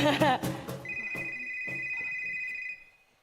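A mobile phone goes off during a live studio theatre performance, its steady electronic ringtone holding for about two seconds after a burst of speech and faint sounds, then cutting out.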